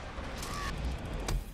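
A single gunshot from a rifle in the video game Days Gone, a sharp crack with a brief tail, fairly faint against background game ambience.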